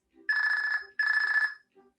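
A cell phone ringtone plays two loud, steady electronic rings of about seven tenths of a second each, separated by a short gap, with a faint tone blip after them and no talk.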